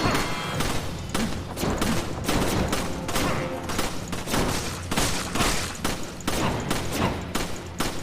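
Video game gunfire as a dense, continuous fusillade of rapid shots and booms, loud and unbroken throughout, with faint voices mixed in.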